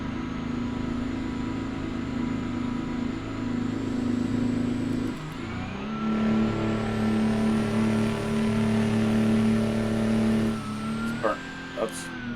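A Freightliner FLD truck with a Detroit 12V71 engine in American Truck Simulator drones steadily and loudly, the pitch dipping and recovering around a gear change with a brief clunk near the end.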